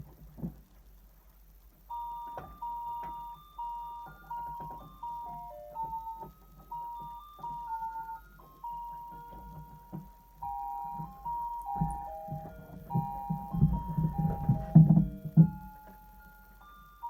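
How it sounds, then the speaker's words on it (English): A musical Christmas tree plays a thin, electronic, bell-like melody, note after note at a steady pace, fairly faint with light rustling and handling noise underneath that grows louder near the end. "I'm going to put my Christmas tree on. I've got the lights, but this one plays music, so listen out."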